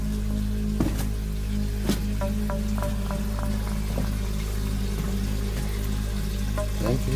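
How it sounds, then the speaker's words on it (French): A small waterfall runs inside an underground quarry at the edge of a water table, giving a steady low rush of falling water with scattered drips and splashes echoing close by. "Il y a une petite cascade."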